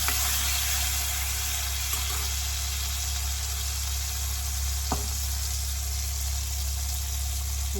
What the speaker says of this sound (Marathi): तेल गरम झाले, आपण ग्रेव्ही टाकूया।